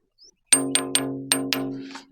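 A ringing rock struck five times at its edge in quick succession, each hit giving a bright metallic clang with a sustained bell-like hum that carries through and fades after the last strike.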